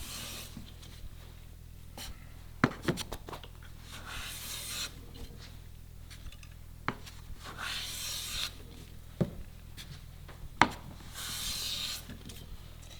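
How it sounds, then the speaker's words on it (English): Long rasping strokes of a hand plane shaving a wooden drawer bottom flat repeat at a steady pace, close and clear, with occasional sharp taps between passes. "I just push that flat with the plane"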